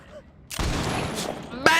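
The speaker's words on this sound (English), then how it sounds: "The fucking gunshot through the mouth" A gunshot from the Deathslinger's Mori finisher in the video game Dead by Daylight: one heavy, booming blast that rings out over a dull, low ambience, then a second sharp crack near the end.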